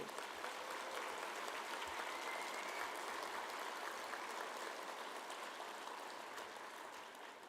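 Distant, faint applause from an audience at a live-streamed geopark gathering, a steady wash of clapping that resembles rain and fades slightly toward the end.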